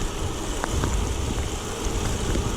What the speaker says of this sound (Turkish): ve çılgın yağmur yağıyor